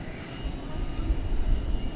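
American Airlines airliner landing on runway 18 right at DFW airport, a steady engine rumble and roar at moderate distance that swells slightly toward the end.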